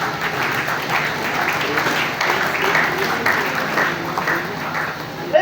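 A worship congregation applauds and cheers the Lord in sustained, steady clapping that fills the room, with voices mixed in throughout.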